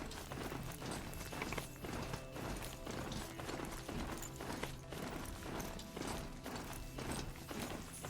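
Mechanical hoofbeats of a robotic steed in Horizon Zero Dawn, a steady clip-clop of metallic footfalls mixed with whirring gears and ratcheting joints, sustained and fairly loud throughout with no talk.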